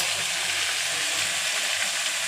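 Turmeric paste fries in a pan with a dense, even sizzle that holds steady throughout, close and moderately loud, with no voices.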